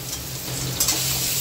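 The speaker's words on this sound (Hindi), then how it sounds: "अब इसमें हम बड़ा एक चम्मच बटर डाल देंगे पनीर तलने के लिए" Paneer fries in butter in a kadai, a loud steady sizzle with a quick stirring clink near the middle.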